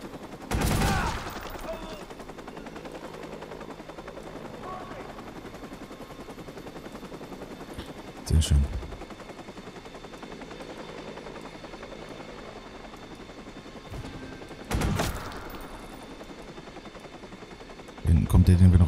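Short bursts of heavy automatic gunfire in the video game Watch Dogs erupt three or four times over a steady droning engine-like hum, with people talking in between.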